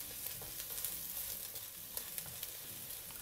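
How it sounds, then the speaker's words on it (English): Chopped garlic sizzles steadily in hot oil for a stir-fry of cabbage and glass noodles, a close, continuous crackle and hiss with small popping bursts throughout and no talking. "We are going to fry our garlic."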